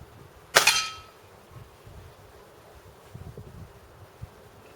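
A single sharp crack from a BSA Lincoln Jefferies air rifle fires early, followed by quiet outdoor rustling and a few faint small knocks.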